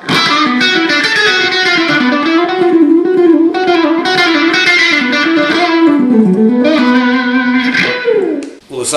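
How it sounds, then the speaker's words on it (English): An electric guitar played through a Dunlop 535Q wah pedal, the tone sweeping between dark and bright as melodic notes sustain, loud and distorted throughout. "Aside from sweeping your foot back and forth with a wah pedal"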